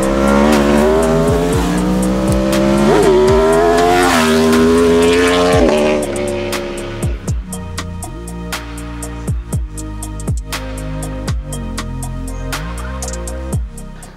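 A 2021 Aprilia Tuono V4 motorcycle ridden hard, its engine revving loudly and rising in pitch through the gears, then settling into rapid choppy bursts as the throttle is worked on and off, close and dominant.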